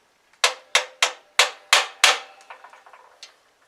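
Sharp metallic taps from a makeshift hammer driving a pin out of a Shop Smith scroll saw: six loud, evenly spaced strikes, then a run of quicker, lighter taps that fade out.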